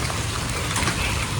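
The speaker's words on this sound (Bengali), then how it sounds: "হাই রে বৃষ্টি হইতেছে 2টা দিন ধরে, ভালোই রহমতের বৃষ্টি" Heavy morning rain falls steadily after hours of downpour, a dense, even hiss close by with no pauses.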